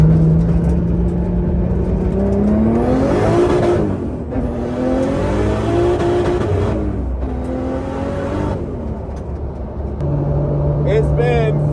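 A Volvo 240 running on E85 fuel spins its tires: a loud, close engine roar swells and falls in pitch over about twelve seconds, with strained revving throughout.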